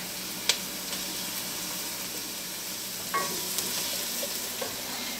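Garlic sweats in a pan for corn chowder, giving a soft continuous sizzle with a few sharp stirring clicks and scrapes at moderate volume.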